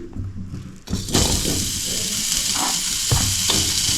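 Onion dropped into hot oil in a pan for Andhra-style gongura chutney bursts into a loud, steady sizzle after a brief quiet start, with a few clinks of stirring.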